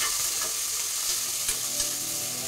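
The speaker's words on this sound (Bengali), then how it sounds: "একটুখানি কিছুক্ষণ ভাজা করে নেব।" Potato pieces with turmeric and salt frying in a pan give a loud, dense, continuous sizzle up close, with a couple of faint soft knocks from stirring and no talking.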